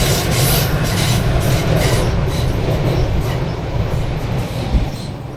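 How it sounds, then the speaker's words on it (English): A train rumbles past close by near Lord Meade's Lodge on the Bray Head hill walk, a loud continuous roar with wheel clatter that holds steady throughout. "Oh, train."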